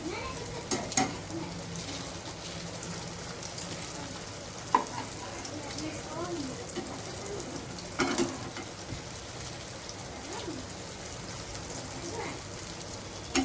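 Chicken kebabs coated in cornflour and besan, frying on a tawa, a continuous close sizzle and crackle like light rain, with occasional louder pops and scrapes as pieces are turned.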